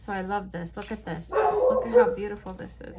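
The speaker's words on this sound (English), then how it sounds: "that was my dog probably barking at nothing" A dog barks and yips repeatedly, fairly close, partly underneath someone talking continuously.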